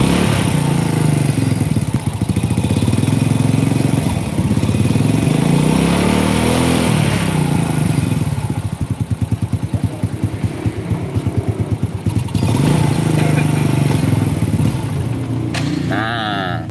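A Honda Supra 100 motorcycle engine runs close and loud, revving and dropping back with an uneven, sputtering pulse from a misfire, the beat stuttering irregularly over its idle.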